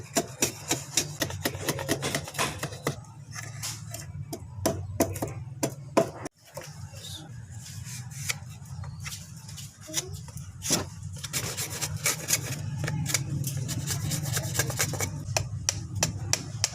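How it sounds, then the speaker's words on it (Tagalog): Wood being carved by hand to shape a vegetable slicer, with steady rasping and rubbing strokes repeating close up, a brief pause near the middle, then continuing evenly. "Ay ukitan po natin."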